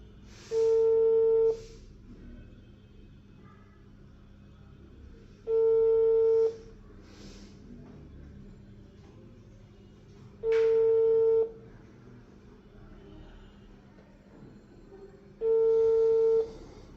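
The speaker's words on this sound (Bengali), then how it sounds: "ফোন ধরতেছে না, এটাই সমস্যা।" An unanswered phone call ringing back in a repeating pattern, four identical tone bursts about a second long spaced roughly five seconds apart, clear and close over low background hum.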